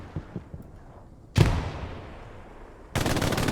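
Machine gun fire in a large multiplayer shooter match: a few faint distant pops, then a loud close burst that decays into a rumbling tail, followed by another sustained burst of gunfire at the end.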